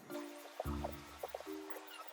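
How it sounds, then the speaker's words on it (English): Water from cooling blanched tomatoes poured away in a kitchen, a soft liquid splash and dribble with a few drips, close and fairly quiet over a low hum. "Meanwhile, I'll throw away the water."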